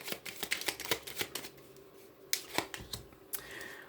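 Tarot cards being handled and drawn from a deck: a run of quick, crisp papery snaps and flicks, close and fairly loud, bunched in the first half with a few sharper slaps toward the end, no voices.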